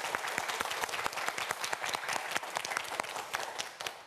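A studio audience on a Korean student quiz show claps in a loud, dense burst of applause that holds steady throughout.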